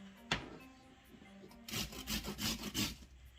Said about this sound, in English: maybe I'll use a grater. See how that works.